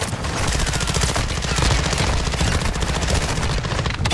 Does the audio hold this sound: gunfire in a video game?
yes